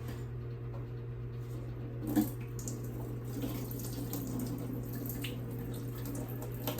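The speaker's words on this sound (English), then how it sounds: "I'm gonna drain this and pat it dry. Drain the potatoes." Water runs steadily into a kitchen sink while potatoes are drained, a constant close splashing flow with a brief louder slosh near the middle, over a low background hum.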